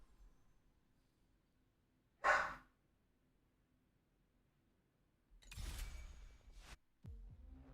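A pet dog lets out a single sharp bark partway through, followed later by a longer stretch of rustling noise in an otherwise quiet room.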